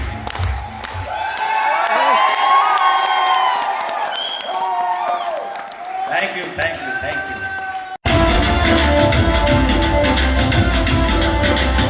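Audience at a sales training event in Jaipur applauding and cheering, with a host's amplified voice over music in the first part, then loud, dense clapping and whoops filling the last few seconds.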